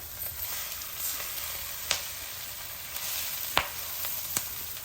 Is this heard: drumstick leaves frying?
yes